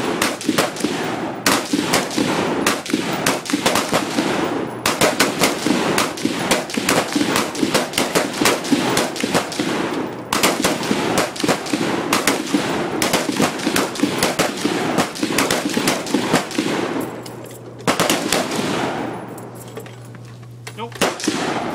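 M4 rifles fire at an outdoor county shooting range, many sharp cracks in quick irregular succession from several shooters, loud and close, with voices talking between shots.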